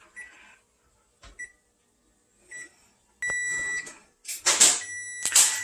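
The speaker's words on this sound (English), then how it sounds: "now that that 1 minute timer's off" A kitchen timer goes off after a one-minute rest for no-bake cookies, letting out a few electronic beeps after some quiet handling noises, then a louder, denser run of beeping near the end.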